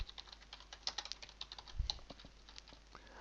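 Quick, light keystrokes on a computer keyboard as a comment is typed, an uneven run of soft close clicks with a slightly heavier tap near the middle.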